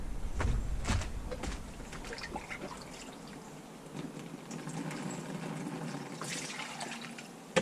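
Water leaking through eroded ground, a soft irregular trickle and dribble with low splashy rumbles at the start, continuing faintly throughout.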